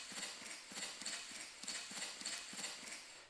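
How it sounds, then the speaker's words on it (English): Footstep sound effects for a run animation built in Unity with Wwise, two steps per cycle, fall in a quick, even, clopping rhythm of hard repeated thuds that carries on throughout with no voices. "now we have 2 footsteps playing for the run cycle, which sounds much better"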